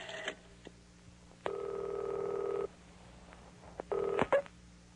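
Tone dialing on a special yellow desk telephone in an office: two long steady beeps, then a shorter one with brief clicks, set against a quiet room hum.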